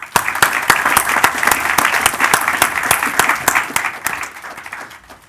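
A conference audience applauds as Mr. Forbes and a panel of speakers are welcomed to the stage: dense, sustained clapping from a large crowd, loud and even, then thinning and fading out toward the end.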